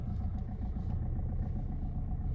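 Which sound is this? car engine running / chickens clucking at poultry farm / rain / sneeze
car engine running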